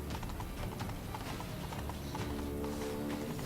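Rapid rhythmic hoofbeats of a horse galloping in The Witcher 3: Blood and Wine, faint clip-clop thuds repeating steadily throughout against a busy game soundscape.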